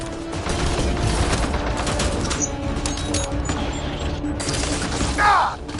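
Sustained gunfire in the sci-fi shooter Mass Effect Andromeda, a dense crackle of rapid shots running steadily throughout, with a brief flurry of higher mechanical chirps near the end.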